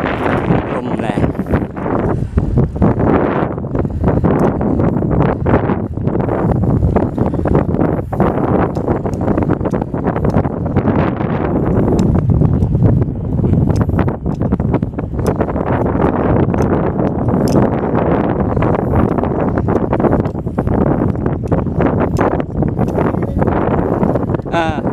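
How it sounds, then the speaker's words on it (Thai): Strong wind blasts across a microphone outdoors, a loud, continuous roar that buffets and surges in uneven gusts. "ลมแรง"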